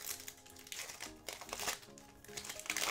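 Basketball trading cards from 2023-24 Panini NBA Hoops Premium Stock being slid into plastic sleeves and top loaders, giving close, repeated crinkling and rustling of plastic with soft taps, no talking.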